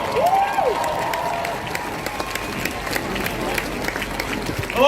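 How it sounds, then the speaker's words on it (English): Rally crowd in Manchester applauding and cheering in the open air, a broad steady wash of clapping and shouts under an amplified voice, with a brief whistle-like tone near the start. "So give them a big round of applause"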